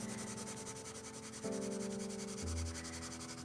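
Hard 2H graphite pencil pressed firmly on paper, a quiet steady scratchy rubbing that runs throughout, with faint background hum.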